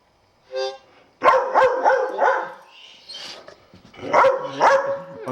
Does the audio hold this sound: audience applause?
no